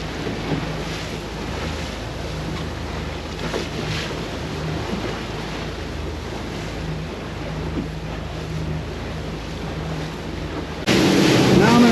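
Steady wind buffets the microphone over choppy water and a low boat motor hum on a crossing to Bimini, with the roar swelling louder in the last second.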